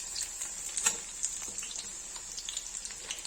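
Chopped onions frying in hot oil for an egg curry, giving a steady, close sizzle with scattered small pops and crackles throughout, with no one talking.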